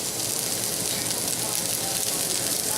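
Broccoli florets frying in olive oil over a high flame, a steady bright hiss of sizzling that holds evenly for the whole stretch, close and continuous.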